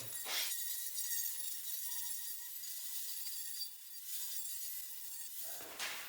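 An angle grinder with a sanding disc runs continuously with a high, steady whine, close up, starting and stopping abruptly.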